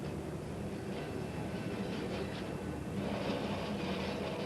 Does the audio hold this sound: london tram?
yes